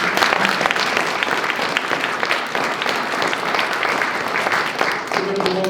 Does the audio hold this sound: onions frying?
no